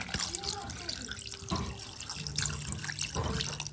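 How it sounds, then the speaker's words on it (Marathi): Water runs from a tap in a steady splashing stream, with a faint voice murmuring underneath. "तर पाणी टाकूया"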